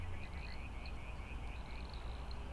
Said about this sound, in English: And I can hear the frogs in the background.